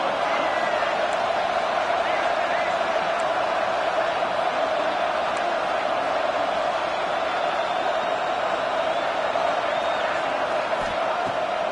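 Crowd noise in an EA college football video game fills the stadium as a steady, dense roar on third down, holding at an even level throughout with no distinct peaks.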